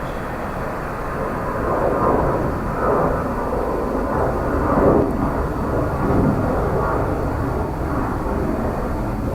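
A jet taxis at Dublin Airport, its engines giving a steady, broad rumble that swells slightly and stays fairly loud at moderate distance, with no voices over it.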